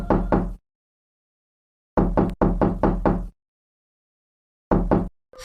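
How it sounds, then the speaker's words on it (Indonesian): Knocking on a house door at midnight, loud and close: a double knock, then a quick run of about six raps, then another pair after silence, sharp hollow thuds with dead quiet between. "dia terbangun karena suara ketukan pintu rumah."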